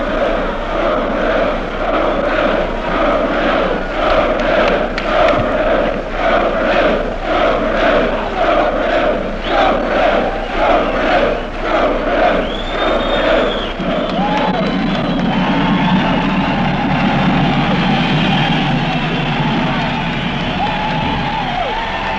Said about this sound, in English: It's a wild crowd, and it should be about the best pep rally we've ever seen here at the field house.